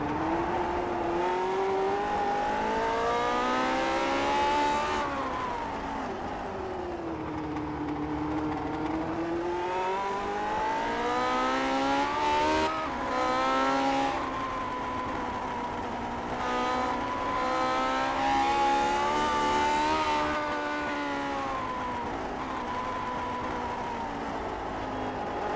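A race car engine in an iRacing Grand Prix Legends onboard view screams continuously at the Nordschleife, revs rising and falling through gear changes and corners, loud and unbroken with no talk.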